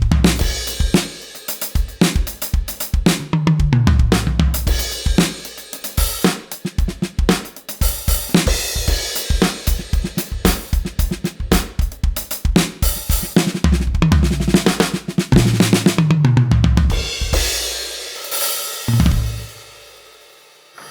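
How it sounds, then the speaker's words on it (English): A DWe Pure Maple electronic drum kit played through a Roland module gives a busy, loud groove with punchy kicks, snare hits and cymbal washes, alone, with a brief pause near the end. "So this is a DWe Pure Maple kit."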